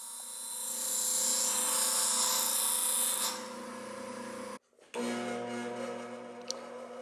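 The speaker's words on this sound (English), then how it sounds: "I'm also watching the sparks coming off" A grinding wheel sharpens a spoon carving knife blade, a steady high-pitched hum and hiss while steel is held to the wheel, breaking off for a moment before the motor drone resumes, no speech.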